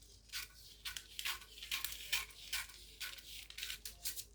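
Scissors cutting through gown fabric pieces, a quiet, close series of rhythmic snipping and crisp tearing strokes repeating roughly every half second.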